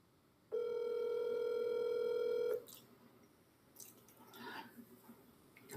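A telephone tone sounds as one loud, steady ring for about two seconds, then cuts off to quiet room noise with faint clicks.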